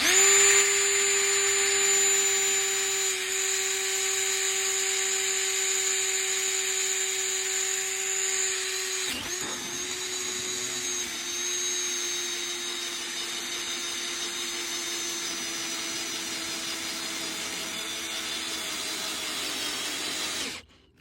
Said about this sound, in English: So let's go ahead and drill really quick.